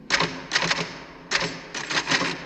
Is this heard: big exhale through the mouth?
no